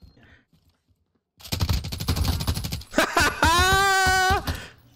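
Rapid automatic gunfire rattles in a Call of Duty: Warzone match, a dense burst of shots followed by a tonal electronic whine, with close game sounds crowding the clip and no clear talk over it.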